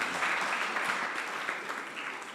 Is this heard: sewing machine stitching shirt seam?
no